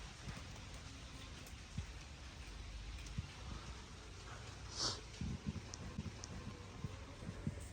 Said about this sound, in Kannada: ನೋಡ್ಬೋದು ಮಳೆ ತುಂತುರು